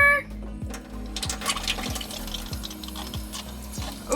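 Hot water runs from the tap into the sink aboard an old yacht, a steady close stream with a regular low ticking pulse beneath it, likely a pump cycling.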